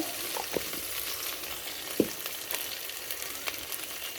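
Food frying on a clay stove in a home kitchen, fish with bean seeds being cooked, a continuous close sizzle broken by occasional sharp utensil clinks and stirring knocks, with no talk.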